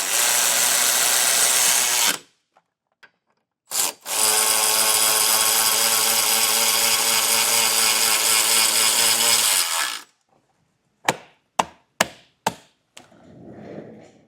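Power tool tightening bolts while a cover is reinstalled on a Roadmaster Direct-Connect base plate installation, with two long, loud continuous whirring runs followed by several short sharp bursts and a faint rumble at the end.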